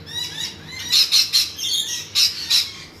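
Lorikeets and parrots in an aviary give a run of sharp, shrill squawks and chirps in quick bursts, close and fairly loud, with no talking.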